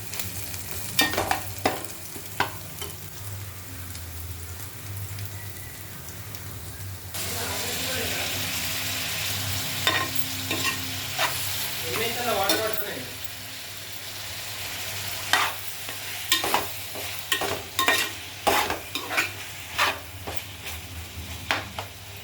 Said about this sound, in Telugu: ఆనియన్, పచ్చిమిర్చి, ఆనియన్ పోపు వేసినా అండి